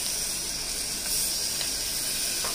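Ginger garlic paste fries in a hot pan for gongura mutton curry, giving off a steady, bright sizzling hiss that holds evenly throughout, close and fairly loud, with no talking.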